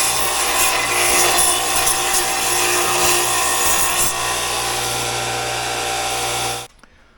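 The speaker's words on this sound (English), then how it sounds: "you can use your flap disc to grind these off" A flap disc grinds burrs off metal shelf brackets with a loud, steady, harsh whirring that runs continuously and then cuts off abruptly at the end.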